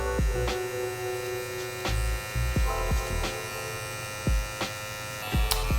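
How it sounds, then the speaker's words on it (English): Electric hair trimmer buzzing steadily through a barbershop haircut, blending a curly-hair line, with a continuous motor hum broken by brief clicks and taps as the blade touches the hair. "With the trimmer that we set this guideline with, we're gonna gently just tap that beginning of the line."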